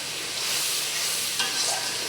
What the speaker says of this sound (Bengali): মশলাটা ভালোভাবে কষাতে হবে।